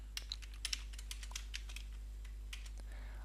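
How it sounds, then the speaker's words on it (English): Someone types surnames into an Excel spreadsheet on a computer keyboard, producing quick, irregular key clicks in short bursts with brief pauses, close and fairly quiet against a low steady hum. "So then I can type in the surnames now."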